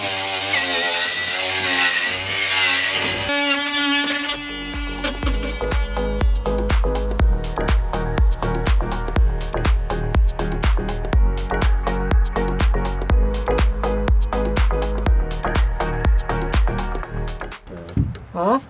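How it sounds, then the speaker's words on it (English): An oscillating multi-tool cutting into a boat hull during a hole repair, loud buzzing bursts in a fast stuttering rhythm, close up, after a brief stretch of talk at the start. "Could you grab the multi-tool?"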